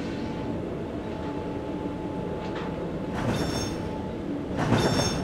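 A Regio-S-Bahn train in the Bremen area rumbles steadily along the track, with wheels squealing in two sharp bursts near the end.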